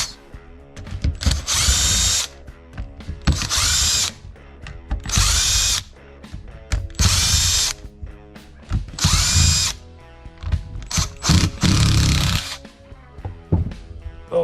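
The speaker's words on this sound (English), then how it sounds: "Taking a T20, you will remove all of the screws." Power driver with a T20 bit backing screws out of a Milwaukee 1/2-inch impact tool's housing, loud repeated whirring bursts of about a second each, separated by brief pauses and small clicks, close up and without talk.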